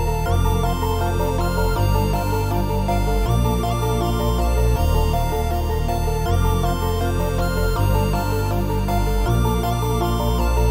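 Atmospheric trap-style beat melody layering piano with a deep, gritty reese bass line that follows the chord progression, playing continuously and steadily loud with repeating phrases and no talking.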